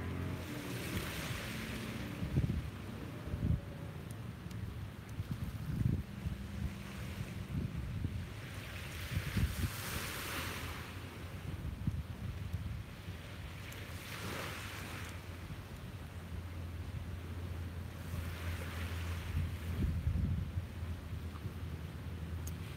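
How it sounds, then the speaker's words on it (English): Ocean waves roll in and break on a beach every few seconds, a steady wash of surf with some wind rumble underneath. "the sound of the waves"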